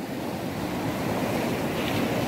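Sea waves wash steadily onto a beach, a continuous broad roar of surf with some wind noise on the microphone and no voices.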